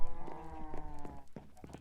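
Sheep of many different colours bleat on a video game farm, with several wavering calls overlapping one another at close range, no voices present.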